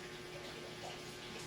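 Water running from a shower or tap, a steady broadband hiss with no pauses, heard close and alone for the whole stretch.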